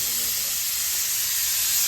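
A pressure cooker of greens in a home kitchen hisses continuously with a steady, bright rush of escaping steam at moderate volume, with no clear whistle note and no speech.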